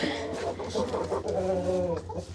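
Farmyard chickens cluck in short, repeated bursts close by, a busy run of calls with a low steady hum underneath.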